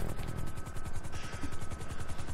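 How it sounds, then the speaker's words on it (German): A helicopter in the GTA V video game whirs with a steady, rapid rotor thump, a continuous pulsing drone heard alone without voices. "Ja, vor allem Sven, ich kann den Helikopter nicht fliegen"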